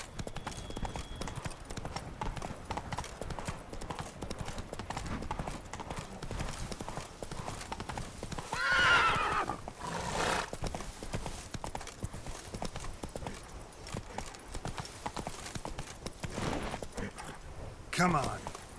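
Roach, a horse in The Witcher 3: Blood and Wine, clip-clops at a steady walking rhythm throughout, with a brief whinny partway through and faint background ambience and voice.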